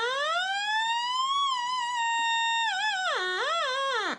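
A home-made germanium fuzz pedal gives off a continuous synthetic tone that rises slowly like a siren, holds steady, then wobbles and swoops in pitch before cutting off abruptly, close and loud with no talking.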